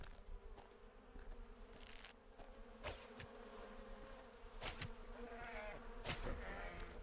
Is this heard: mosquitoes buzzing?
yes